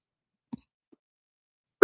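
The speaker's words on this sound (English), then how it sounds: "Excuse my cough." A single person coughing nearby, with a short dry cough, a faint catch of breath, then a sharper, louder cough right at the end, set against near silence.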